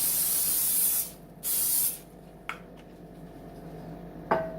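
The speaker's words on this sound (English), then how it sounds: "make sure you spray it with cooking spray." Two short bursts of cooking spray hiss close by into a baking dish, followed by quiet pauses and a couple of light taps of the dish.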